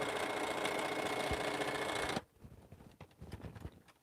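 A sewing machine in need of oiling runs a final quilting seam, a steady close whirring stitch for about two seconds that stops abruptly, followed by quieter handling and shuffling of fabric.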